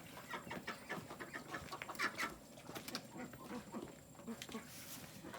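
Molting hens cluck and murmur inside a poultry coop, a steady low chatter of soft clucks with occasional sharper calls, moderately close amid light background rustle.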